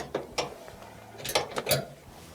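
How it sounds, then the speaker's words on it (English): Screws are worked loose from the gas safety valve of a range oven, several short metallic clicks and ratcheting scrapes spaced unevenly over a quiet background, close and moderate in level, with no speech. "Pull it out as far as you can go, and then we'll remove the 2 screws"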